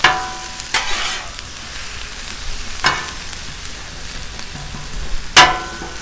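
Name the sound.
Cajun shrimp and smoked sausage stirred on Blackstone griddle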